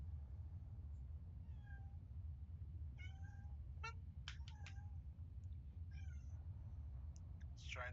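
A pet cat gives several short chirps and meows close by, spread across the clip over a steady low hum, with no talking.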